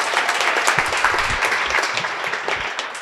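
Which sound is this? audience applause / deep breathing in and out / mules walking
audience applause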